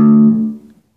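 A single pluck of the fat open top string of a bass guitar produces a deep, loud note that decays quickly and fades to silence within about a second.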